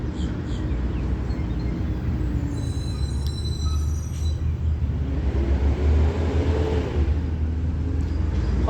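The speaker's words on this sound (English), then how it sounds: "The trash truck needs to drive through right now." A City of Clearwater garbage truck driving by up close, a loud continuous engine rumble with faint hissing and squeaks of brakes, without talk.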